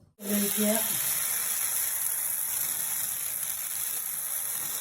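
Oats dosa batter hits a hot pan and bursts into a loud, steady sizzle that carries on alone, after a brief moment of talk at the start.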